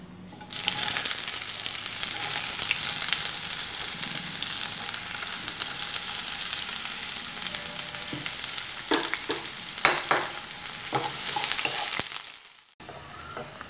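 Onions sauté in a pan with a loud, continuous sizzle. Scattered stirring clatter comes near the end, then the sound drops away abruptly. No one speaks.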